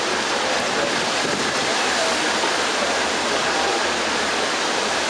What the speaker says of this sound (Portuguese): É, tem a cascata aqui.